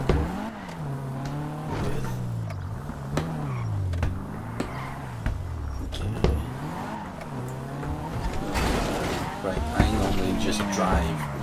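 Car engine in GTA V revving and shifting through gears as it drives, with tire squeal and skidding sounds, steady and fairly loud throughout with a voice talking over it.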